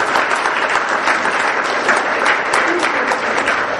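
An awards ceremony audience applauds steadily, a dense, even wash of many hands clapping at close range with no pauses.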